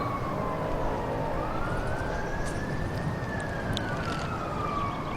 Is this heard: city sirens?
yes